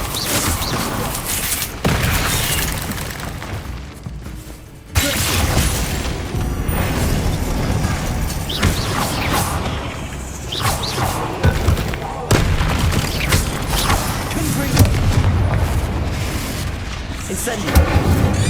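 Repeated heavy blasting explosions from the Bombarda spell in Hogwarts Legacy, loud booming bursts with sharp onsets and rumbling tails over busy combat noise, recurring every few seconds.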